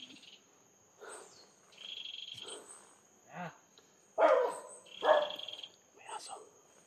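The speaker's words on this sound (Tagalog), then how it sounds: "May aso." A dog barks in short separate bursts, some louder and nearer than others, over a steady high insect chirr at night outdoors, with a voice briefly heard between barks.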